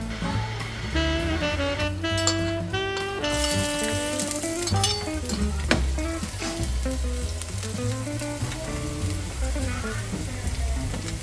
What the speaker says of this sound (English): while the onions and veggies are cooking